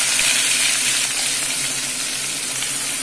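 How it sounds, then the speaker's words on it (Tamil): Mustard seeds spluttering in hot oil for an onion pickle, a loud dense continuous sizzle with fine crackling pops throughout, close up. "கடுகு நல்லா பொரியட்டும்."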